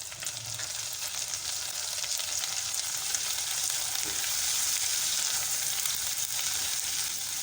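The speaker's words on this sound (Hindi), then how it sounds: "अब इसके अंदर मैं 1 चम्मच लहसुन का पेस्ट और 1 चम्मच अदरक का पेस्ट डाल रही हूँ।" Garlic and ginger paste frying with browned onions in a pan, giving a continuous, even, close sizzle that holds steady throughout, with no voices.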